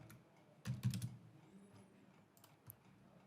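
A name is typed on a computer keyboard, a short burst of quick, soft keystrokes followed by a few scattered taps, close but quiet.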